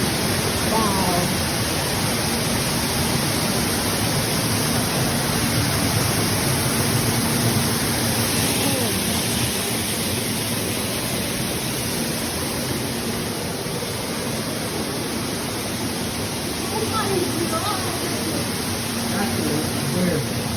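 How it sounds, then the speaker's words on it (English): Water flows steadily inside a cave on a canyon nature trail, a dense continuous rush with no pauses, while people talk faintly in the background. "This is actually water."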